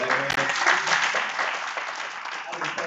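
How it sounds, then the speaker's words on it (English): A church congregation at an anniversary service applauds, dense sustained clapping from a crowd filling the room and slowly thinning toward the end, with a brief sharp knock near the start. "Give yourself a round of applause."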